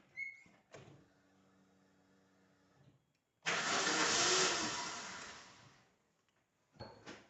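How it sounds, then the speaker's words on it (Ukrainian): A Daewoo Gentra engine cranks and fires after a few clicks and a faint hum, roars loudly up close for about two seconds, settles, then is switched off, with a short noise at the end. "Просто заводимо на 2 секунди буквально."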